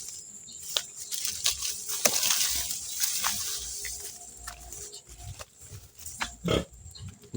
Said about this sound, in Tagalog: Bantayan ko tong baboy ko dito.